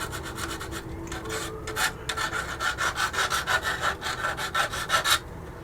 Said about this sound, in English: Put some scratches on our tailgate because that would happen for sure.